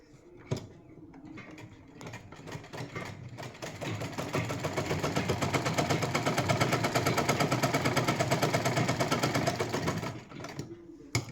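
A sewing machine stitches a side pocket onto palazzo pants in a rapid, even run that speeds up, holds for several seconds and then stops, with a few short bursts and clicks before and after.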